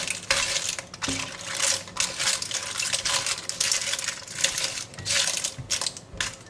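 Clams (lala) stir-fried in a pan with Thai chili paste, spring onions and sweet basil, with loud continuous clattering and sizzling as the shells knock and scrape against the metal, close and steady with no talk.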